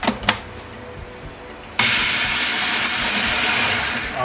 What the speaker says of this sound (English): let's go ahead and get these into the food processor or your blender, either one, and we are going to turn these into a puree